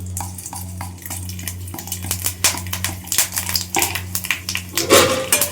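Whole chilli, bay leaf and panch phoron crackle and spit in hot oil for a Bengali mixed vegetable dish, with irregular pops and clatter from a utensil over a low steady hum.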